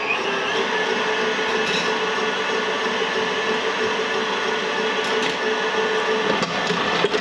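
An electric stand mixer fitted with a whisk blends sugar and vanilla for a cream filling, running at a steady, even whir throughout with no one speaking.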